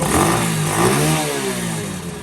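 Honda CT70 motorcycle fitted with a swapped-in Lifan engine revving hard, loud and close, its pitch rising and falling in quick surges with a rattly mechanical edge and no voices.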